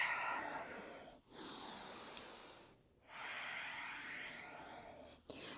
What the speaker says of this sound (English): Big breaths here